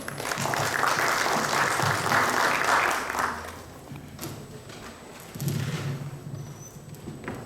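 Audience applause welcoming doctors to a panel at a patient-support programme, a loud burst of clapping for about three seconds that fades to scattered claps, then a brief second swell before trailing off.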